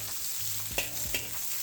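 Mixed vegetables stir-fry over high heat in a pan, giving a steady loud sizzle with two distinct scraping pushes of the spatula as they are tossed.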